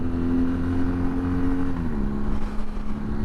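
A 2022 BMW R NineT Scrambler motorcycle being ridden, its engine droning steadily and close with a sustained tone that dips in pitch as the rider eases off, wind rush underneath.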